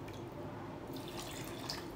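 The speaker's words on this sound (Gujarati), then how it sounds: "એની સાથે અડધો બાઉલ પાણી પણ એડ કરી લઈશું" Water poured into a mixer jar along with semolina and curd for dosa batter, a continuous close trickling splash lasting a couple of seconds.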